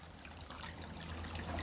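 Freshly made juice trickles and pours into a glass in a quiet, continuous liquid stream, faint and close, with no talk.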